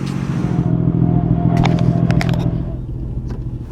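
A Nissan Skyline GT-R R32 engine runs at a steady idle, a close, loud, deep rumble with a few sharp clicks and clatters over it partway through.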